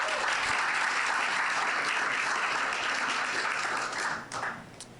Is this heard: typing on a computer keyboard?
no